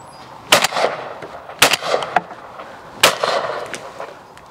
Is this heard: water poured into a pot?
no